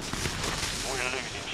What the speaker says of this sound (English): Oh, that's a shotgun here.